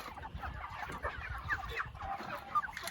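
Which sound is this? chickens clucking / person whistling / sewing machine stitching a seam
chickens clucking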